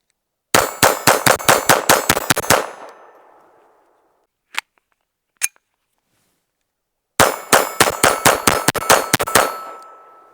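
Rapid strings of .22 rimfire shots from a Retay Arms RXP 22 pistol ring off steel targets, two loud bursts of about ten sharp cracks each, separated by a quiet gap with a couple of faint clicks.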